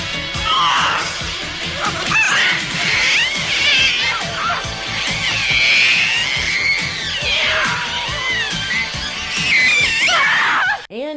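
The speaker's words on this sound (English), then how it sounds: "And yes, the baby demon screams like that the entire time." A baby demon puppet in the 1986 horror film Demons 2 screams continuously, a loud, shrill, wavering shriek that rises and falls for the whole stretch, with a dense clatter of film sound underneath.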